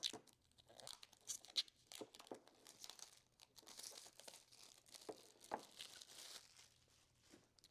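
A blade slices open the bottom of a OnePlus Watch 2 box, giving faint, close crinkling and tearing of cardboard and plastic with small scratchy bursts and light taps, very quiet overall.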